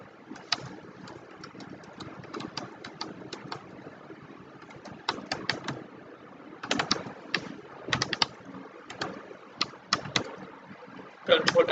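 Keystrokes on a computer keyboard while HTML code is written, arriving in irregular clusters of clicks with pauses between, fairly close and moderate in level, with a low background hum and some faint voice underneath.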